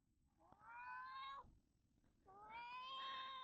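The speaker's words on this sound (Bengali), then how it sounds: "শুধু ম্যাও ম্যাও করলে হইব না" Two drawn-out cat meows, one after the other with a short pause between, close by and fairly loud over a low background hum.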